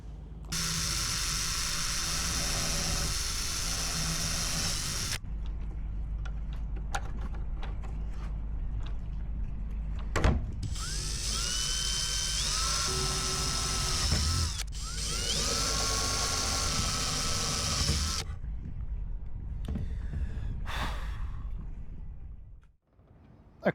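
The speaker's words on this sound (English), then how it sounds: "I'll get the drill and I'll just drill little holes, and I'm going to drill the pilot holes" A power drill drilling pilot holes in a boat's painted side whines in bursts, spinning up and running steadily, then stopping, with quieter gaps of handling noise between runs, close by.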